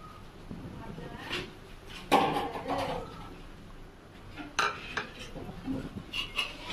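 Metal pot lid lifted off a cooking pot of chicken pulao in a home kitchen, giving a clear clatter and clink followed by lighter metallic taps and kitchen sounds, with a voice talking.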